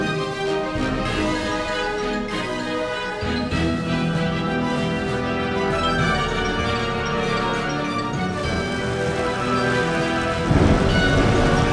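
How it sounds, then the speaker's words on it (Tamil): Heavy storm with steady, dense rain and rolling thunder, loud and continuous throughout with no voices. "ஒரு நாள் திடீரென்று கடும் புயல் அடித்தது"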